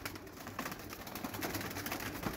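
Army pigeons thrash about inside a large loft, with a dense flurry of rapid wing flaps and scuffling close by, mixed with soft cooing.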